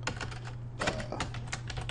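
Typing on a computer keyboard, a quick irregular run of light clicking keystrokes, close and clear with no speech.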